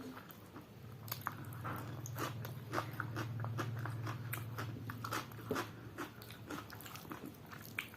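Close, wet chewing and biting through a home meal of fish curry with boiled papaya, fried pointed gourd and cauliflower-potato, repeated soft crunches in an uneven rhythm with no talking.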